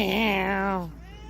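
A person imitates a cat's meow, one drawn-out vocal meow close to the mic with a falling tail, standing alone without other talk.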